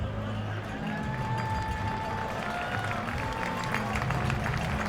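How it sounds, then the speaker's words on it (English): Ballpark crowd at a Sugar Land Skeeters versus New Britain Bees game giving an injured player a round of applause, a spread-out, moderate clapping under a steady crowd murmur, with faint whistling tones early on. "Benson getting a round of applause as he walks with the trainer up that first base line"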